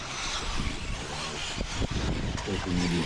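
A purple and white RC truggy buzzes along the front straightaway of a cold outdoor race track, its small electric motor whining amid other trucks, with a commentator talking over it.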